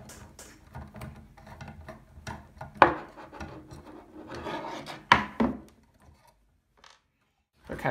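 Heatsink screws being removed from a Yamaha CS-60 synthesizer: close scraping and rubbing of metal tools, with two sharp clicks or knocks standing out among quieter handling noises, no voices.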